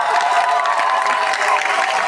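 A festival crowd at the Tuseo 20th-anniversary evening applauds a Gabonese musical comedian, a steady, loud wash of clapping and cheering that holds without pause.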